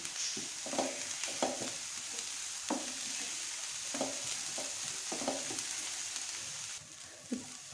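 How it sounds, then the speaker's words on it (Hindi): Chopped cabbage frying in a pan for a Spanish omelette while a spoon stirs it, a soft steady sizzle broken by repeated light scraping and tapping strokes, close and alone with no talking. "तो इसको भी मैं ऐसे ही 2 से 3 मिनट चम्मच चलाते हुए फ्राई कर लूँगी।"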